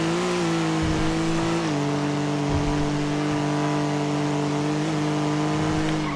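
A Porsche sports car in NoPixel on GTA V revs hard, its engine drone stepping down through quick gear changes, loud and steady for the whole stretch, with no talk.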